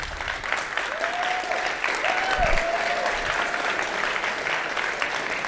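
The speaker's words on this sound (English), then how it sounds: "Let's give a big round of applause for James, Owen, and Destiny, and everybody" An audience at a heated debate event claps steadily and warmly throughout, a dense patter of many hands with a faint voice or tone briefly rising above it.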